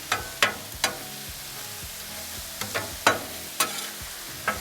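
Cheesesteak meat and onions fry on a Blackstone griddle, a steady soft sizzle broken by sharp scraping clatters of a spatula stirring and chopping at irregular intervals, close by with no talking.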